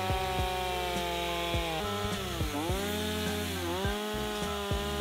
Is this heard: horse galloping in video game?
no